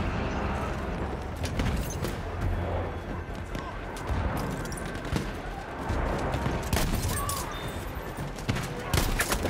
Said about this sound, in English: Enemy machine gunner!